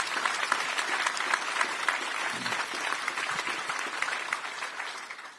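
A large crowd claps steadily for the assistant director at a State of the City 2025 civic address, a dense, loud ovation that holds throughout and tapers slightly at the end.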